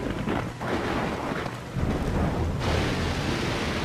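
A thunderstorm in Splinter Cell Pandora Tomorrow: low, rolling thunder rumbles beneath a constant wash of rain, swelling in the middle and holding steady, heavy and enveloping without any talk.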